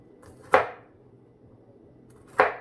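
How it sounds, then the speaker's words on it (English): Two sharp knife chops against a cutting board as both ends are cut off a bitter melon (goya), each a crisp close thud, spaced nearly two seconds apart with quiet in between. "So I chopped both ends off"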